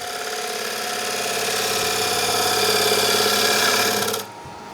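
A wood lathe turns a closed form bowl while a gouge cuts. A loud, steady mechanical whir and hum builds slightly, then drops abruptly near the end, with no talk.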